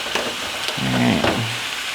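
Spinach dropped into a hot frying pan sizzles steadily, a continuous close crackle with a brief clatter of stirring partway through, no voices.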